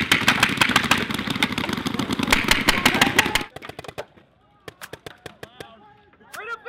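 Paintball gun fitted with a loud blunderbuss-style barrel, firing a rapid string of sharp, loud cracks over a dense roar for several seconds, then fewer, spaced shots of another gun nearby against quieter background.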